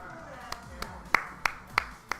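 A sparse, slow golf clap at a Street Fighter V tournament at Game Realms in Burbank, California, about six crisp, separate claps spaced roughly a third of a second apart, faint against quiet background noise.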